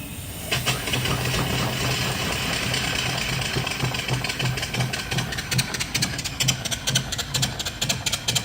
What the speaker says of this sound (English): And I'll turn on the steam to the engine.